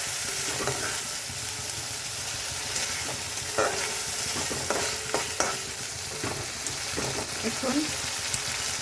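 Green chilies fry in hot oil for egg korma, a steady close sizzle broken by scraping stirring strokes, with occasional faint voices in the background.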